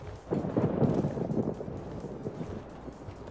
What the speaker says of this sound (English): I can hear the rain outside as it thunders.